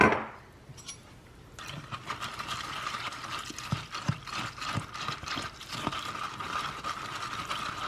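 Rapid clinking and scraping of a utensil stirring cereal and cold water in a bowl, a steady busy rattle that continues to the end.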